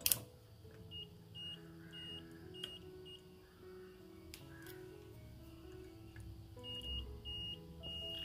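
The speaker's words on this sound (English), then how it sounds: "You can see the beep sound on the multimeter in buzzer mode." Faint short electronic beeps from a multimeter in buzzer mode, testing a Sony SRS-D9 2.1 home theater board, repeat in small clusters over a steady low hum.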